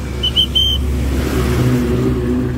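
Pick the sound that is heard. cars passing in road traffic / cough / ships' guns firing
cars passing in road traffic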